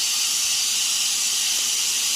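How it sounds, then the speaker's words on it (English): Steam hisses hard and steadily from the release valve of an electric pressure cooker during vegetable broth canning, a loud, close, unbroken jet with no talking. "push this little valve to release the steam"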